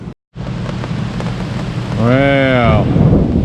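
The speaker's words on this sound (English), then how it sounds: "now it started raining" Steady rain hisses through a cloudy North Georgia evening during a thunderstorm, with a brief wavering tonal call rising over the downpour near the end and a short dropout at the start.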